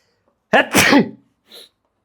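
A single loud, close sneeze: a sharp intake and burst, followed moments later by a short, fainter sniff or exhale.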